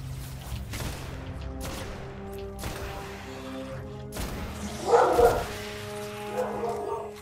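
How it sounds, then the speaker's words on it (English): A pet dog barking indoors in short, repeated yips and woofs, moderately near, over steady video game sound from Destiny: House of Wolves on PS4. "And my dog's barking."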